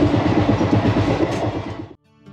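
Garib Rath AC train on the Puri to Kolkata route pulling into a station: a loud, close rumble with rhythmic clatter of the wagons that cuts off abruptly near the end, leaving a faint background.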